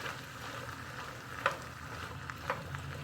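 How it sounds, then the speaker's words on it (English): Canned petite diced tomatoes hitting a hot soup pot for bean and vegetable soup, with a steady close sizzle and a couple of soft splats as the tomatoes land and are stirred. "I'm going to put in can of my petite diced tomatoes."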